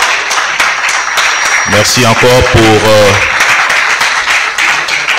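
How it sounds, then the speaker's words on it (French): An audience at a certificate-awarding ceremony claps as a president is escorted to his seat, a dense patter of applause running throughout while a voice on a microphone speaks over it. "Nous allons donc accompagner le président Eugène Diekakou à sa place sous vos applaudissements"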